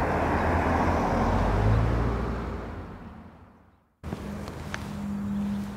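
Road traffic in San Diego rushes past as a broad wash of passing vehicles that swells and then fades toward quiet, followed by a lower, steadier roadway hum with faint sharp chirps.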